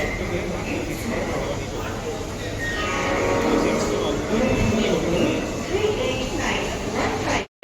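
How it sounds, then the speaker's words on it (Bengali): A train rumbles and screeches into a station in Bolpur, India, amid a crowd's chatter and a voice nearby, with a steady low roar and squealing wheels. "চলে এসেছে আমাদের ট্রেন"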